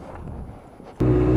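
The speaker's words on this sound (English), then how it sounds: "Boy, it's a bit windy today." Wind rumbles and buffets the microphone while riding a motorcycle, then a motor abruptly starts droning loudly near the end.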